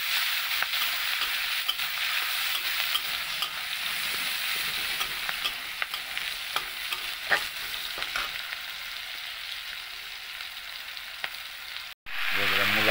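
Radish greens fry in a pan with green chillies and garlic, a steady close sizzle with faint stirring clicks that cuts out briefly near the end before resuming at full strength.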